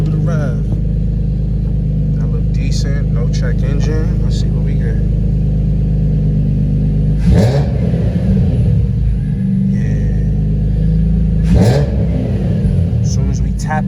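Sixth-generation Nissan Maxima with an engine swap and six-speed manual idles loudly and steadily, with two short revs breaking through the rumble and a voice talking in the background.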